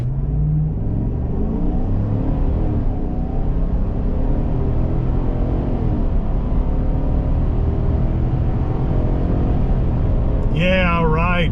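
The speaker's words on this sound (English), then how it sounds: "We're going to test out how it takes off from a start in 3," A 2023 Chevrolet Silverado RST 4x4 pickup pulls away hard from a standstill, its engine rumbling loud and steady with rising revs throughout, and a brief voice cuts in at the very end.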